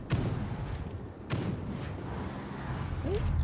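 Rapid tank cannon fire from a World of Tanks battle, sharp booming shots at irregular intervals over a steady rumbling din of battle, with a voice faintly audible in the background.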